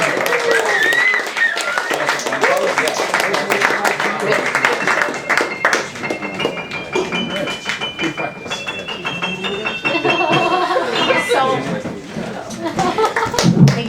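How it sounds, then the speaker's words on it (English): An audience at the KGB open mic claps for the next act. Dense applause runs throughout, with cheering and people talking over it. "Let's have a big round of applause for our next act."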